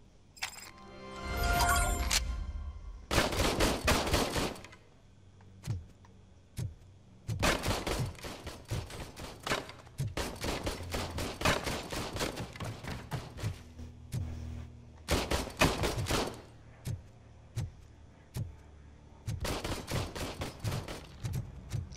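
Gunfire rattles in the video game Robocop: Rogue City, coming in repeated loud bursts of rapid shots separated by short pauses, with clinking casings between volleys.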